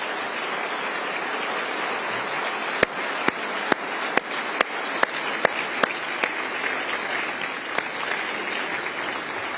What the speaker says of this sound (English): let's give her and John a round of applause